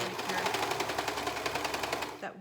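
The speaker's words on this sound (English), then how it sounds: "you want to make sure that you take out your pins as you go so that you don't serge on top of them" A serger sews the front band of a scrub cap, a fast continuous mechanical whirr with a steady stitching rattle, close and loud, stopping abruptly near the end.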